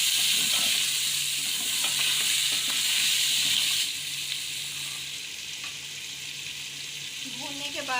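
Whole spices, cumin, nigella seeds and black pepper with garlic-ginger powder, sizzle and crackle in hot oil in a pot for a village-style desi chicken yakhni, a steady close frying hiss that softens midway with light stirring clinks.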